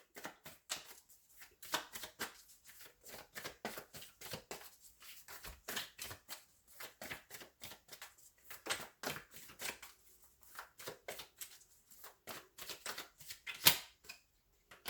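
Tarot cards shuffled by hand give a rapid run of crisp riffling flicks and slaps, dense and uneven, near and fairly quiet, with a sharper snap toward the end and no speech.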